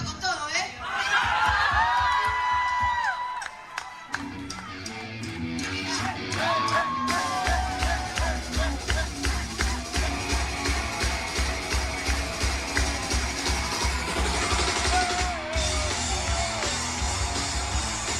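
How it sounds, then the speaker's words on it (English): A large Argentine concert crowd at a show cheers, yells and whoops loudly and continuously, with a rhythmic thumping pulse underneath and a voice talking over it in places. "That crowd."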